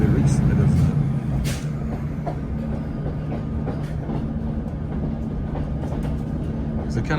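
Train on the Esk Valley Line heading toward Nunthorpe, a steady low rumble and hum of the moving railcar with faint clicks, heard from inside throughout, louder for the first second.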